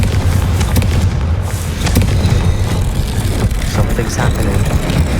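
A Confringo fire spell explodes in Hogwarts Legacy with a deep boom, followed by continuous loud rumbling and crackling battle noise.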